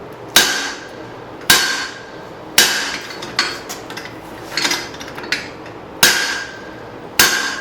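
Sharp, ringing hammer blows on hot steel while forging an axe hatchet blade with a guillotine tool, about eight strikes at uneven intervals, some single and some in quick pairs, loud and close with no talk.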